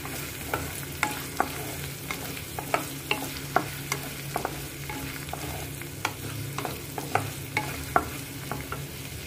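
Crushed, finely chopped garlic and a finely chopped inch of ginger fry steadily in a pan, a continuous sizzle broken by regular sharp clicks and taps of a spoon stirring, close and moderately loud with no talking.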